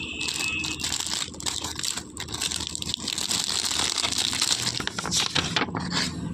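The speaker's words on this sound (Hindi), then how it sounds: "ये पॉलीथीन है कपड़े वाली, साथ में फ्री में मिली है।" A cloth-like polythene bag, handed out free with a pack of Ayurvedic medicine, crinkles and rustles close up, continuous rattling and crumpling for several seconds with no one talking.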